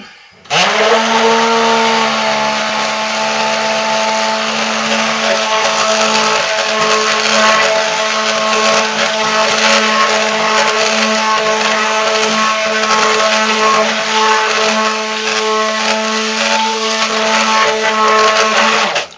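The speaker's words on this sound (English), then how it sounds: "remember to always keep your stick blender submerged" An electric stick blender whirs steadily at close range, mixing goat's milk lye soap in one loud, continuous high-pitched motor drone that holds without pause for nearly twenty seconds.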